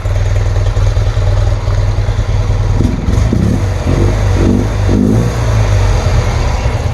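A 1977 BMW R100S motorcycle engine runs loudly and steadily up close with its choke being adjusted, giving a deep, even thrum with a few quick throttle blips in the middle.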